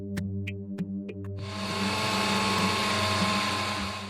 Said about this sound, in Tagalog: Ang pagkain ni Josel, kinakailangang i-blender